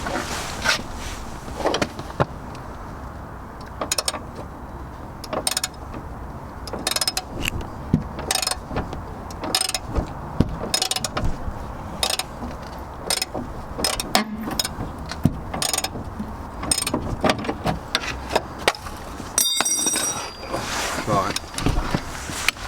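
A 22 mm socket and breaker bar undoing a long coilover bolt on a Mazda MX-5 suspension, repeated ratcheting clicks and metallic clanks in irregular bursts, close up, with someone talking intermittently.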